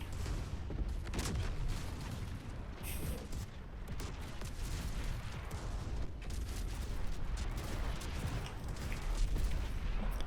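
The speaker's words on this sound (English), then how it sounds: "Fireworks!" Fireworks going off in the video game Baldur's Gate 3, a dense, continuous barrage of crackling pops and booms that stays loud for the whole stretch.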